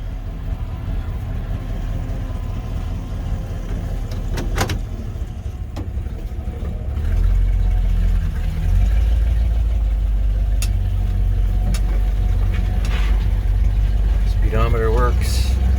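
A 1959 Chevy El Camino engine turns over and settles into a steady, loud low idle that continues close by, with a few brief clicks and someone speaking over the running engine.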